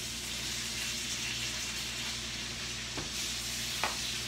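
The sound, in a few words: beef sizzling and being stirred in a skillet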